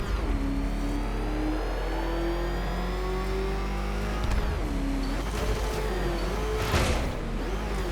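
A car engine revs and accelerates in Batman Arkham Knight, a steady, loud mid-pitched drone with rising and falling pitch sweeps as the throttle changes, holding throughout without any talk.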